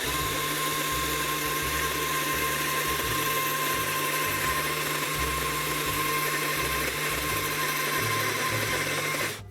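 A small electric chainsaw carves a wooden Sasquatch sculpture, a continuous high buzzing whine with a rapidly pulsing low chatter as the chain bites the wood, steady and close for the whole stretch without speech.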